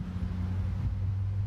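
Cars pass on a road a short distance away, a continuous low rumble of traffic that stays fairly even and distant, with no talk over it.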